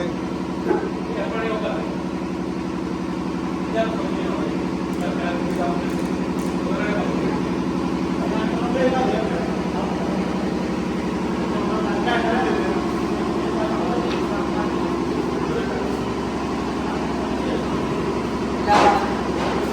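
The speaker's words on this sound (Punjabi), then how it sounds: "ਇਹ ਜਨਰੇਟਰ ਕਰਕੇ ਕੋਈ ਆਵਾਜ਼ ਘੱਟ ਸੁਣਦੀ ਹੈ" A generator runs steadily through the whole stretch, a constant close mechanical drone with a low hum, while people talk over it and a few light knocks and clatters come through.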